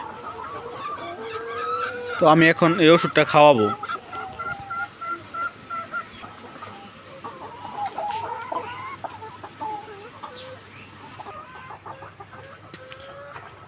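Layer hens, including paralysed birds being hand-dosed with tablets, give a loud burst of squawking clucks followed by scattered softer clucks and calls, close by, while someone speaks over them.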